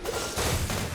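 An elemental burst explosion in the video game Genshin Impact, following a fire attack in a dungeon fight, erupts as a dense, loud, rumbling blast that fills the whole moment with crashing noise.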